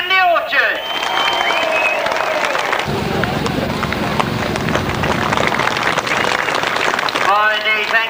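Audience applause at a sidecar grasstrack racing awards event, steady dense clapping from a crowd that carries on for several seconds while someone speaks over it.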